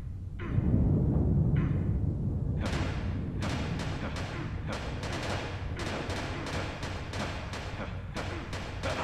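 Heavy cannon fire in the online shooter Metal Gear Online, a dense run of booming blasts and sharp broadband bursts repeating rapidly over a low rumbling battlefield bed, loud and close throughout.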